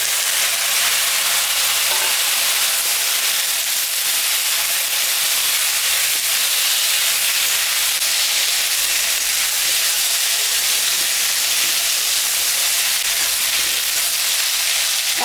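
Potato and cauliflower fry with onion in a pan, making a loud, steady, close sizzling hiss that runs continuously without pause and with no voices.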